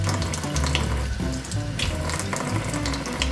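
Tap water gushes steadily into a sink, a close, continuous splashing stream without any talking.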